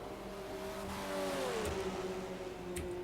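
A prototype race car's engine in the rFactor 2 sim, during an endurance race at Sebring, drones low and moderately loud, with its pitch gliding down as it passes and settles.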